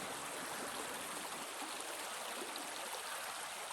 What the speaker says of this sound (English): They're right next to the creek.